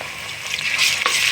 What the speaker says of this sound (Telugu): ఉల్లిపాయలు అయితే వేగాయండి అల్లం వెల్లిపాయ పేస్ట్ వేసుకుందాం